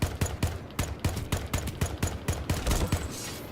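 A weapon in a video game firing rapid, evenly spaced single shots, a dozen or so sharp cracks in quick rhythm, close and fairly loud, with no voices.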